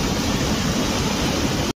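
A full drain carries fast rainwater after a heavy downpour, producing a constant loud roaring rush close to the microphone that cuts off abruptly at the end.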